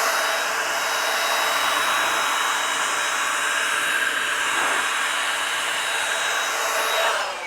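An air blower pushing water off the metallic black paint of a car after a graphene detailer spray, a steady, loud, close whooshing rush that holds evenly for the whole stretch.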